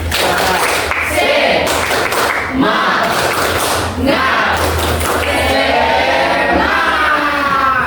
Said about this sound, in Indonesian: Kita coba buktikan dengan tepuk semangat.